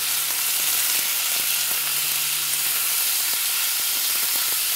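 Pork and vegetables fry loudly in a pan with ginger, a dense continuous sizzle close to the mic, with a few faint clinks of utensils and no talking.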